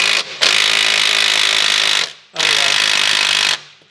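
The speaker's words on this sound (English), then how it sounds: "get the socket on the other side again with the gun and try and undo it" An impact gun undoing a nut on VW Tiguan front suspension during spring and shock absorber replacement, two loud sustained rattling bursts close by, each lasting about one and a half to two seconds with a brief pause between.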